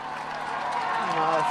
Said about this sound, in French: Foule énorme ici dans la traversée de Bédouin au pied du Mont Ventoux